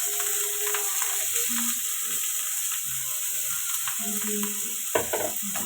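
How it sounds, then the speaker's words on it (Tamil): Onions and green chilies sizzle in a hot pan, a steady crackling hiss broken by clinks and scrapes of stirring. "போட்டு நல்லா வறுத்துக்கணும்"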